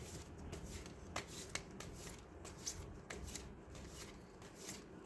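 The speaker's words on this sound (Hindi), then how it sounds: "Let me just shuffle the cards" A deck of tarot cards being shuffled close by, a quiet continuous riffling with sharper flicks and snaps as the cards slide together, alone without talk.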